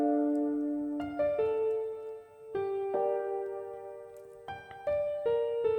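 Soft layered piano chords sound together with a traditional piano picking out individual melody notes, a slow, sustained progression of overlapping tones, close and unaccompanied by speech.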